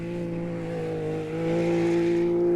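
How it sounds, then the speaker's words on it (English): Turbo side-by-side off-road racers, Can-Ams among Jimco buggies, lap a technical desert circuit at the St George 399, their steady engine drone holding a constant pitch before rising slightly as one draws nearer, with no talk over it. "The impressive side-by-side turbo entries lapped up the technical circuit"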